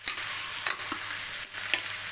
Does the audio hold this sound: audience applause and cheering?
no